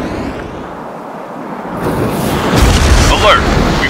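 Explosions from destroyed missile silos in the flight game Ace Combat 7 come as a muffled low rumble that swells into a louder roaring blast near the end, with wind-like noise and radio voices talking over it.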